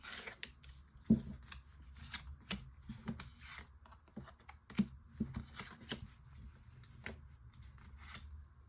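Tarot cards are shuffled and drawn for a nine-card spread, giving soft, scattered riffles, flicks and light slaps of cardboard close by, quiet and intermittent, with no talk.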